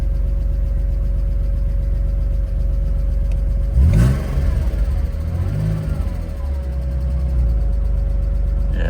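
A flood-damaged BMW Z3 engine idles roughly, missing intermittently, with a loud low rumble throughout and a brief rise in revs partway through, and a voice talks over it.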